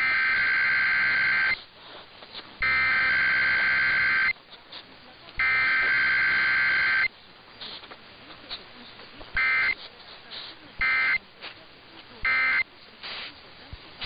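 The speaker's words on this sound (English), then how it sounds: "The following is a test of the emergency alert system." Emergency Alert System test attention tone from a broadcast station, a loud steady two-tone signal sounding in long bursts, alternating with plain talk and shorter bursts of the tone and data noise.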